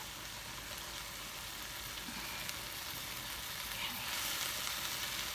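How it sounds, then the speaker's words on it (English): Noodles simmer in a pan while the liquid cooks away, giving a continuous soft bubbling sizzle that holds steady and grows slightly louder toward the end, with no voices. "I'm just going to leave that to simmer until all the juice is taken up, because I'd like a dry noodle"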